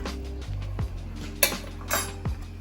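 Pasta stirred in a pot, a few faint knocks and scrapes of a utensil against the pot's side over a low background hum, short and close.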